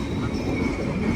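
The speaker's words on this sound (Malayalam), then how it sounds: "ആന്ധ്രാപ്രദേശ് സമ്പർക്രാന്തി എക്സ്പ്രസ് ആണിത്." The Andhra Pradesh Sampark Kranti Express rolls past close by, a loud, continuous rumble of railcars with a metallic wheel squeal over it and no speech.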